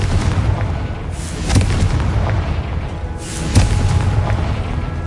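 Two booming Confringo blasting-spell explosions go off in the Hogwarts Legacy video game, loud and spaced about two seconds apart over a constant rumbling game backdrop.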